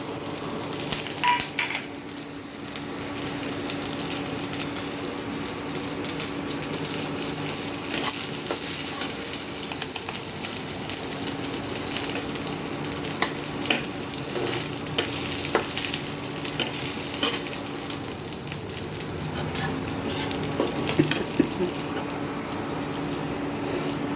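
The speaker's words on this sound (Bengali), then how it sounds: "রসুন কুচিটাকে হালকা করে নেড়ে নেব।" Chopped garlic and green chilli sizzle steadily in a hot pan while a utensil stirs and scrapes through them in repeated strokes, close and continuous with occasional clinks of metal.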